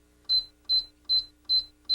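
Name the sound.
bread maker add-ingredient beep signal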